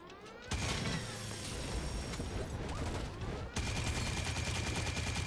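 Rapid automatic gunfire from a weak gun in a video game, a dense continuous burst of shots that briefly pauses before resuming, loud and close with no talk.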